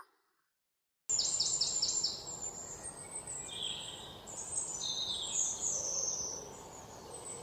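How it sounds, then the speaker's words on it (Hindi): Birds chirp and tweet in a forest, with small clusters of high, faint calls over a constant hiss of insects and background noise, following a short silence at the start. "रामपुर जंगल में पक्षियों की सभा हो रही थी।"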